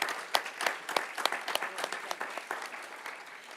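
An audience at a public discussion on women's freedom and gender freedom applauds psychoanalyst Elisabeth Roudinesco, crisp claps close by over a dense spread of clapping, loud at first and gradually thinning toward the end.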